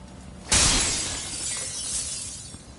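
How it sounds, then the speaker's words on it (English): A sudden, loud shatter of breaking glass in the video game Dishonored 2, a single bright crash followed by tinkling shards trailing off, with no talking. "I don't know what I expected would happen when I, would break glass."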